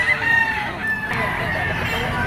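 A yellow-legged bull stag gamecock crows nearby, a short strained call over steady background noise and bird chatter at a poultry market in Lipa, Batangas.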